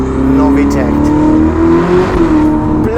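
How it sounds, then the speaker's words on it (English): Ferrari SF90 fitted with a Novitec exhaust system accelerating in sport mode, a loud rising engine note with climbing revs and crackles from close by, while someone talks over it. "Race, no, sport, we've got the loudest exhaust."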